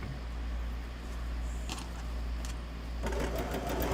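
A sewing machine runs steadily while stitching a quilt, a close continuous mechanical hum that picks up a faster, busier whir toward the end.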